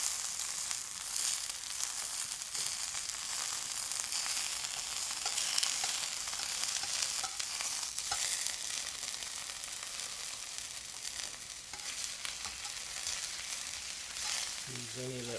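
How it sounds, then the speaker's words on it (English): Canadian bacon sears in a pan with butter, producing a steady close sizzle throughout and a couple of faint utensil clicks toward the end. "Now we're going to sear the Canadian bacon."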